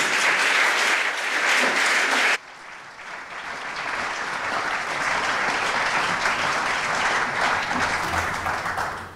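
An audience at the 11 July celebration at Brussels city hall applauds after a band's performance, starting loud and bright, then continuing as a steady, dense wash of clapping.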